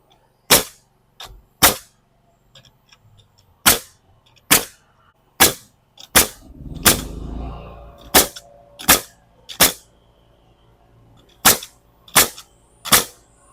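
A nail gun drives nails into a cabin wall under construction, firing about a dozen sharp, loud, evenly spaced shots with short pauses between them, plus a brief rumble of handling midway; no talking.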